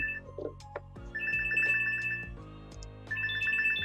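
A phone ringtone plays, a bright repeating electronic melody of short tonal pulses in quick bursts, fairly faint and alone with no talk.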